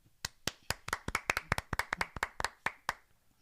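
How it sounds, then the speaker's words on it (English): A small group claps in a quick, uneven rhythm, roughly a dozen sharp, close hand claps over a few seconds before fading out, with no talking. "We're going to get a lot of claps, aren't we, Santava, Woodman"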